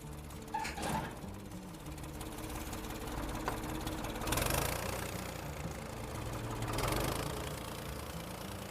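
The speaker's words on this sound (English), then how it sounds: "the tractor's too loud to really talk" A tractor engine runs nearby with a steady, knocking, vibrating chug. It swells louder twice as the throttle rises briefly, then settles back to an even rumble.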